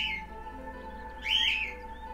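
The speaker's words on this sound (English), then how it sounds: "I'm going to fucking kill these birds" Outdoor birds chirp faintly, with a steady low hum and a brighter burst of tweeting calls about midway through the short stretch; no one speaks.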